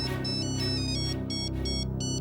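A telephone rings with a repeating electronic ringtone, bright tonal bursts pulsing in a regular pattern over a steady background hum, with no one speaking.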